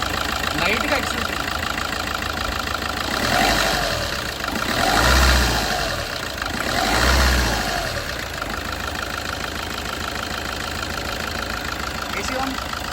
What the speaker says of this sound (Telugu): సో వెహికల్ ఒకసారి స్టార్ట్ చేసి సో చూడొచ్చు మీరు ఇక్కడ ఇంజిన్ సౌండ్ అనేది కూడా